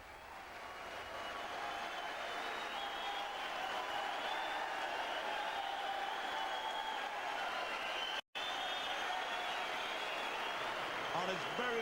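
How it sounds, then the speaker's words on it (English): A snooker crowd applauds steadily and murmurs excitedly after a 147 maximum break, a sustained wash of clapping with a brief cut in the middle and a voice talking over it. "Well, you can hear the buzz of the crowd"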